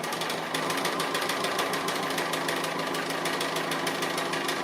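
A sewing machine stitches an appliqué, running in a fast, steady mechanical rattle that carries on without a break, close and fairly loud throughout.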